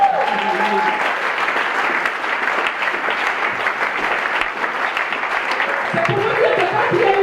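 A seminar audience in Libreville, Gabon, applauding for the Lord, with steady, full clapping that continues throughout and a voice rising over it near the end.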